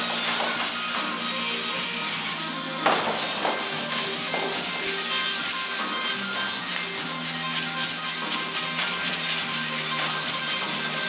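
Steady hand sanding on a fiberglass front-end part for a 1955 Chevy, a continuous dry rasping scrub with rhythmic back-and-forth strokes, close and loud with no talking.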